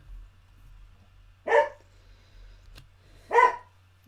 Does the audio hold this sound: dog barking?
yes